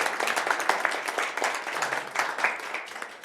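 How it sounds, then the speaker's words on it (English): A room full of people at a regional vocational technical school committee meeting claps for colleagues. Dense, steady applause of many hands runs throughout at moderate, even loudness. "a round of applause for our colleagues in the"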